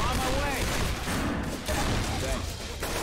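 Gunfire from Left 4 Dead 2 crackles through a dense, loud game battle, with repeated shots blending into constant action noise and chaotic background sound.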